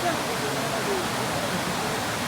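Water rushes at Devkund waterfall in Raigad, Maharashtra, a dense continuous roar with voices faintly mixed into the flow.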